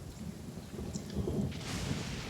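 Steady rainfall with low rumbling thunder in a video game, a continuous wash of rain that swells louder near the end with no voices.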